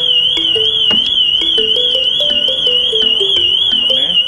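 An Isuzu D-Max car alarm blares up close, a loud steady warbling electronic tone over rapid stepping chirps that repeat throughout, sounding alone with no talk.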